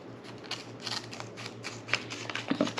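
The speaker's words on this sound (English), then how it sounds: "I'll try cutting some paper" Small scissors on a compact EDC multitool snip through paper in a few quick, quiet cuts with light rustling, close by against a steady low hum.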